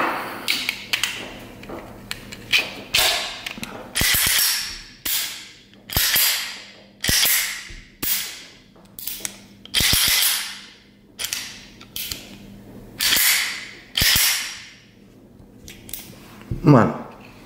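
An RR 51 pistol in 7.65 Browning is being reassembled, giving a long run of sharp metallic clicks, slides and snaps at a steady, irregular pace, close and loud, with quiet gaps between the actions.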